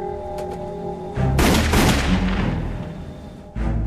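.44 caliber handgun fired inside an airliner cabin, a sharp loud blast around the middle with a decaying roar, a second hard onset at the end, set against a low humming background.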